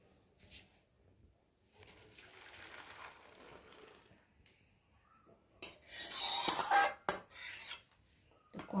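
Someone scrubs a kadai wok crusted with lentil residue. Gritty rasping and rubbing strokes come in bursts with pauses, then louder splashing and running water near the end.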